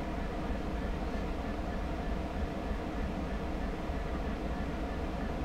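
Great Western Express train in the Train Sim World game, a steady close rumble of rolling wheels and engine drone with a low constant hum, even in level and unbroken throughout.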